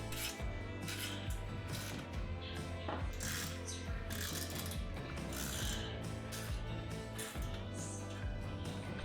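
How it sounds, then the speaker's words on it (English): A Wiha GoBox ratchet tightens washers and hex nuts on a Wall Control workbench frame, giving dense continuous mechanical clicking and grinding close by for the full length, with no talk. "For the larger hardware, I'm using my Wiha GoBox Ratchet set."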